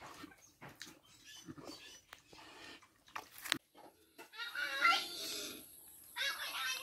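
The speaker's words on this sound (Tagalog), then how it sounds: "Pakain si Soy sa aso" A dog eating its food makes close, faint crunching, chewing and lapping sounds in irregular bursts, with quiet background noise and a steady high tone toward the end.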